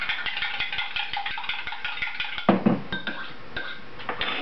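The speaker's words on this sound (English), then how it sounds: "And we're going to take 2 eggs. Stir them up a little bit." Two eggs are whisked in a bowl, a utensil clicking quickly and rhythmically against the side, then a louder clatter and a few scattered taps as the stirring stops.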